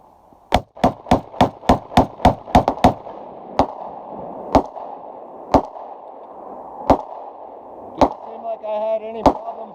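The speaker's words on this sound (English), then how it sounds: "So let's see if we could do a mag dump with a 9-round." Rapid magazine dump from an RIA VR80 12 gauge shotgun with a 9-round magazine and 3-inch shells: a fast string of sharp, loud, close blasts, then slower spaced shots with echo and a brief voice near the end.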